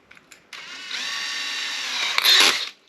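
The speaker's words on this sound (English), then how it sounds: "drilling out those holes for the bolts" A power drill runs steadily for about two seconds, boring bolt holes with a 3mm bit for M3 bolts in a waterproof battery box, its whine rising briefly before cutting off, close and alone after a few small clicks.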